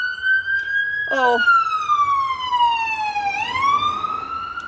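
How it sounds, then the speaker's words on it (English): An ambulance siren passes on a side road, loud and close, its steady wail sliding slowly down in pitch and then climbing again, over traffic rumble, with a brief spoken exclamation. "So every now and then we get interrupted with the ambulance"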